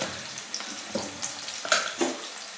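Curry leaves hit hot oil in a pan and sizzle, with a crackling fry and several sharp pops and spatters spread across the moment.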